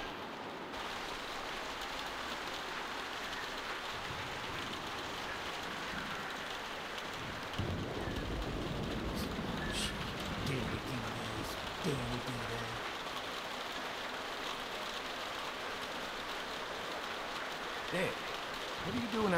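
Steady rain falls outside a barn at night, a constant hiss of drops with occasional heavier patters, continuous and close throughout.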